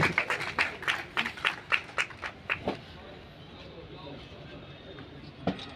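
A small group claps for a doctor at a World Tuberculosis Day event, with a burst of rhythmic clapping that fades after a few seconds, a single late clap and voices talking nearby.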